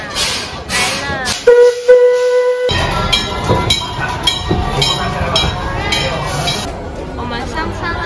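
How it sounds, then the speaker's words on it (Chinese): A steam-style train whistle sounds as a mine-railroad-themed train arrives at Tokyo Disneyland, a sustained tonal blast followed by rumbling and clattering, with people talking and background music. "听到前面火车来的声音了吗？"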